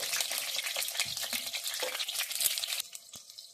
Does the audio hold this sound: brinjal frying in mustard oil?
yes